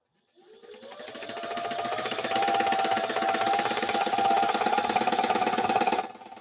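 A sewing machine runs fast and continuously while stitching panels for a large 35 by 14 foot curtain. It whirs up after a brief silence and holds a steady, rapid needle rhythm with a rising motor tone, then cuts off near the end.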